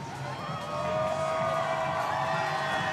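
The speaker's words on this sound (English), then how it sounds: "You can hear the crowd" A crowd cheers at a junior men's K2 canoe kayak marathon in Gyor, a sustained distant roar of voices and whistles that swells and holds under a tonal hum.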